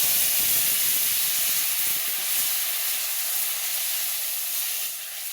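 Curry poured into a hot pan of fried garlic and cumin sets off a loud, broad sizzling hiss, strong at first and fading slightly toward the end.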